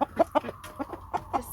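Rooster and hens clucking in a backyard chicken flock: a soft, steady series of short, rhythmic clucks, fairly faint, with no talking.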